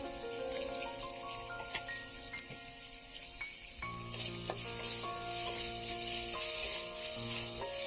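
Spices frying with salt and turmeric in a pan for an amra chorchori, a continuous close sizzle with stirring scrapes, along with bright ringing tones that run steadily throughout and no talking.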